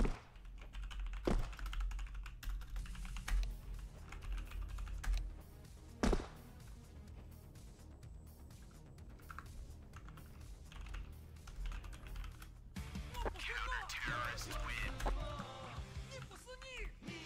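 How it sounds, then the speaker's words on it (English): Someone types quickly on a computer keyboard while playing Counter-Strike 2, with clattering keystrokes and occasional heavier thunks over faint game sounds. "Let me type."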